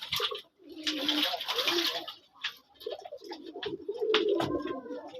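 Pigeons bathing in a bowl of water give repeated soft, close cooing calls, with brief rustling and fluttering between them.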